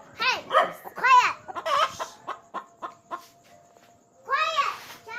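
Hens clucking close by: a quick run of short clucks and rising squawks, a pause, then a louder burst of squawking.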